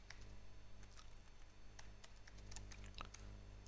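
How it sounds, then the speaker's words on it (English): Keystrokes tapped out on a computer keyboard while entering a name during a wattOS Linux install, a steady run of light clicks over a low, constant background hum. "So let me type my name."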